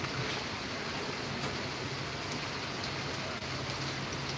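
Steady midday rain pours down in a dense, even wash of hiss and patter that holds at a constant level throughout, with no voices.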